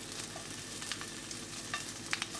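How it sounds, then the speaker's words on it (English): Lamb fries in a hot pan without oil, a steady close crackling sizzle with scattered pops and spits throughout, no voices. "So in a hot pan, there's no oil in the pan because there's going to be enough oil come out of the lamb"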